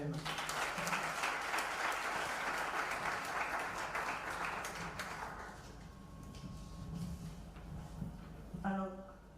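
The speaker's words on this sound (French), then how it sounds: "Est-ce que nous pouvons applaudir pour nous-mêmes?" Applause from an audience at a launch event in a large hall, broad and sustained at first, then thinning into scattered claps before fading out.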